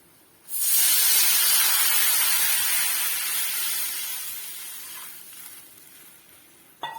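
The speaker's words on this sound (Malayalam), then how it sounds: "ഇനി കറിയിലേക്ക് ആവശ്യമായിട്ടുള്ള വെള്ളം ഒഴിച്ചു കൊടുക്കാം" Water poured into a hot pan of curry sets off a sudden loud hiss and sizzle that fades slowly over several seconds, with no talking.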